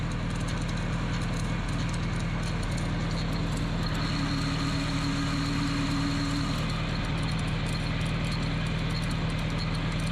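A Minneapolis Moline farm tractor engine idles steadily nearby, a continuous low rumble with an even, unchanging beat and no talk over it.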